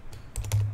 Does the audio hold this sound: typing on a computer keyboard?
yes